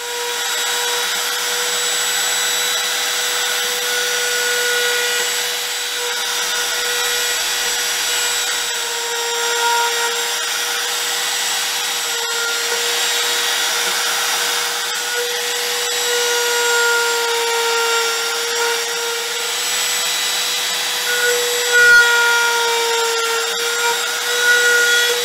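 A drill bores holes in a decorative sycamore woodturning platter with a steady, close motor whine and bright overtones. The sound continues for about 25 seconds with slight changes in pitch and load, and no one talks.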